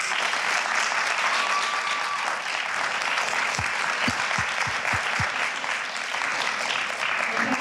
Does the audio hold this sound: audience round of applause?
yes